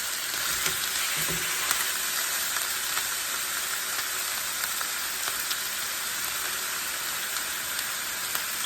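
Chuck beef browning in a hot pan with onions nearby, giving a steady, dense sizzle and fry crackle that runs loud and unbroken throughout, with no voices.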